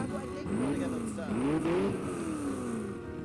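A car engine in the video game Watch Dogs hums and revs up and down smoothly, a moderately loud purring tone that rises and falls, with a voice talking over it.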